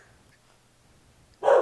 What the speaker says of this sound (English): That dog is going crazy